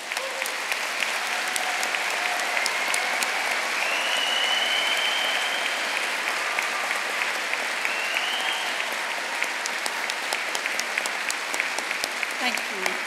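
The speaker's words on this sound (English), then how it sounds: "So I would like to give you personally one more round of applause." Steady, sustained applause from a large audience filling a hall at a Birmingham degree ceremony, dense clapping holding even for the whole stretch without pause.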